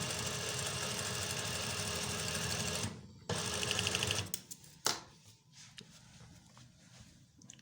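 Sewing machine running a close edge stitch along a cuff placket, a fast steady whir for about three seconds, a short pause, then another brief burst before stopping, leaving faint handling noises.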